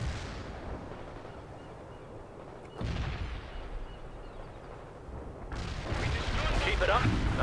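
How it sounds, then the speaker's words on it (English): Heavy artillery barrage in the video game World in Conflict, with deep booming impacts and rumbling explosions building in intensity, loud and continuous, with a sharp burst near the start and a denser roar toward the end. "Fire support. Heavy artillery."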